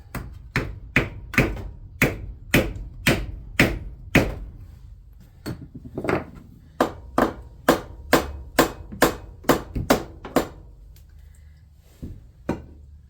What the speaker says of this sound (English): I got a block of wood and a hammer